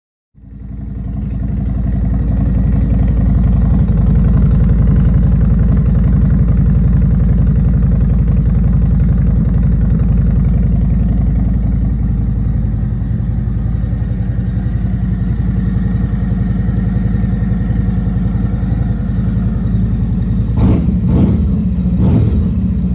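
A 2026 Harley-Davidson Street Glide 3 Limited with a Stage 1 upgrade and aftermarket exhaust idles loud and close in a steady deep rumble, then a few short sharp revs break through near the end.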